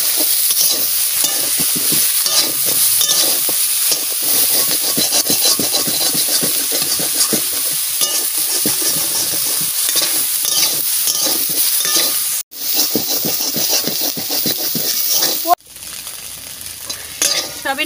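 Soybean chunks fry in a pan of hot oil, a dense, steady sizzle that runs loud and continuous, with a couple of brief dropouts near the end.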